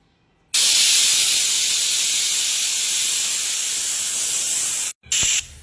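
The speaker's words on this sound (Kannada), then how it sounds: "ಕುಕ್ಕರ್ ಕ್ಲೋಸ್ ಮಾಡಿ ಇವಾಗ 2 ವಿಷಲ್ ಹೊಡೆಸ್ಕೊಳ್ಳೋಣ ಬನ್ನಿ." A pressure cooker cooking vegetable pulao vents a loud, steady hissing whistle of steam for over four seconds, breaks off briefly, then resumes for a short burst.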